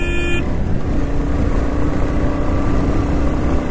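A Royal Enfield Bullet motorcycle speeding hard in second gear past 80, a loud, dense, steady roar with road noise, opening with a brief horn toot.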